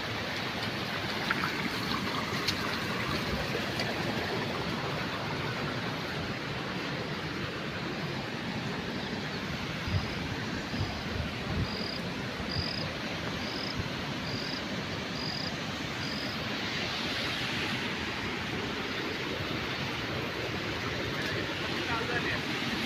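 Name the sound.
rushing floodwater from a burst dam after heavy rain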